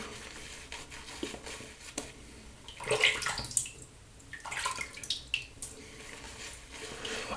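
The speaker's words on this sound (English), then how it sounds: "That's going to need some more water." Soft running water trickles and splashes faintly in short bursts as it is added to shaving cream lather, with quiet pauses between pours.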